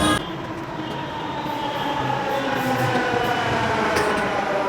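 A metro train rumbles along steadily, a dense continuous roar of wheels and carriage noise with a faint high squeal, heard from inside or close by with no distinct voices.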